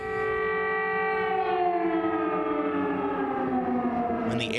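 An air raid siren in Ukraine wails loud and steady, holding a long sustained tone that slowly drifts lower before cutting off at the end.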